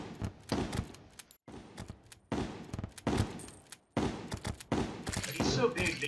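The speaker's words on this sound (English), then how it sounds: "you can't help but hit him with your boomstick almost every time" A shotgun (boomstick) in the Terraria video game fires repeatedly at the Slime King boss: loud clusters of blasts and impacts come in several bursts separated by short silent gaps.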